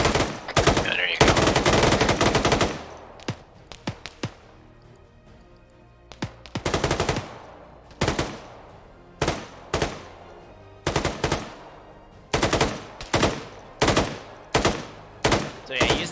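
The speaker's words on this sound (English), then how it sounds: "using a machine gun as a rifle, not the best strategy, but it'll still get it done" Machine gun fire in the video game Arma 3: a long sustained burst, then short, evenly spaced bursts with quiet gaps, loud and close.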